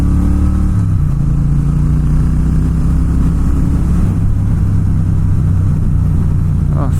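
A Triumph Bonneville T120 Gold Line motorcycle engine roars loud and close under throttle while riding, its pitch rising as it accelerates and shifting through gears, with heavy wind rush over it.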